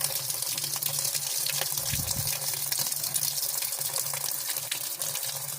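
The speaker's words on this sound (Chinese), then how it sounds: "现在进水的速度快很多了" A repaired washing machine fills with water, a steady, fairly faint rushing hiss of inflowing water that runs evenly with no pauses.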